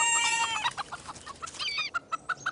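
A rooster raises an alarm among free-ranging hens, giving a rapid series of loud, sharp clucks and squawks, some stretched into harsh rising calls, close by and alone, ending in a few spaced staccato clucks.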